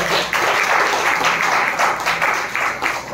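A congregation claps for God during a Hindi missionary's sermon, sustained loud applause in waves across the hall with faint voices mixed beneath.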